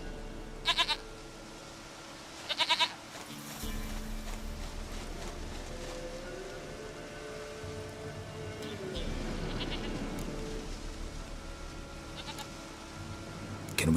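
A goat in The Witcher 3 bleats in short, nasal bursts, twice close together near the start and again faintly later, over a low hum with a voice talking in between.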